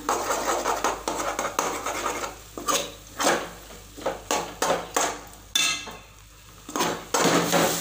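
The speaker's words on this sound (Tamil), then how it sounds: "முட்டையை ஊற்றியாச்சு கலக்கிட்டு இப்போ எல்லாத்தையும் சேர்த்து கலக்கலாம்" Beaten egg being stirred and scraped through a hot pan with a utensil during a home morning cooking routine, giving repeated rasping, rubbing strokes with light metallic clinks, close and fairly loud, no voices.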